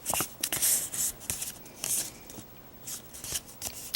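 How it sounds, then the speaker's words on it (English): Crisp paper rustling and creasing as paper triangles are folded in half for 3-D snowflakes, a run of close, dry swishes and rubs with short pauses between, no talking. "I'm going to take each triangle here and I'm going to fold it in half."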